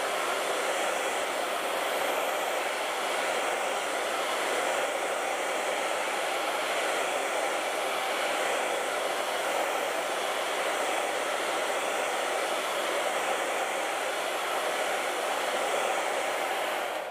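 A hair dryer blows steadily to dry acrylic paint on a canvas, a loud, continuous whooshing roar that holds constant from start to finish with no talking over it.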